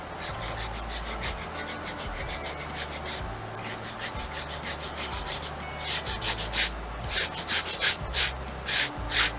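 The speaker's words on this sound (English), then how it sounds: "I'm just going to use a really light sandpaper just to" Light sandpaper rubs back and forth over a small gold or brass model ship part, a nameplate with black lettering. The strokes are close and rhythmic, with brief pauses between bursts, and no voices.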